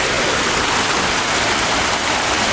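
A small waterfall in Qatar, fed from a nearby green-patch source, gives a loud, constant broadband rush of falling and flowing water heard up close with no other sounds.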